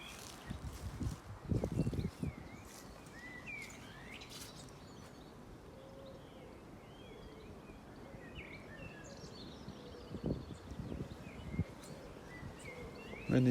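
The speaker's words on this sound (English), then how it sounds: "The noise, the sound of the birds." Birds chirp and sing steadily outdoors, several calls overlapping, with a few faint rustles and footsteps nearby.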